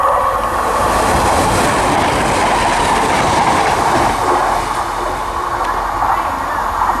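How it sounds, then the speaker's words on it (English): An Arriva Trains Wales service to Milford Haven passing through a station at Kidwelly or Ferryside, a loud close continuous rumble of rolling wheels and carriages with rhythmic clatter throughout. "passing through now is an Arriva Trains Wales service to Milford Haven"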